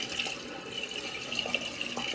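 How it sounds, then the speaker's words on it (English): Warm tap water runs steadily from a faucet into a sink while a face is rinsed, a soft continuous splashing stream at modest volume. "I'm washing it off with warm water"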